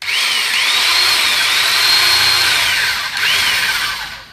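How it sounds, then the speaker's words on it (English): An old Black & Decker D720 3/8-inch electric drill runs loud and steady, its high motor whine holding for about three seconds, dipping briefly, then revving again, with no talking. "I'm going to be using a very old drill. This is a Black & Decker D720 3/8"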